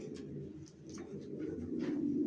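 Young racing pigeons cooing nearby in a loft, a low burbling coo rising and swelling steadily with occasional light scratches and taps.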